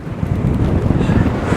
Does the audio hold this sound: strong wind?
yes